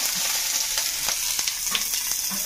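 Onion fritters (bhaja) fry in hot oil, giving a close, continuous hiss and crackle with a few sharper pops scattered through.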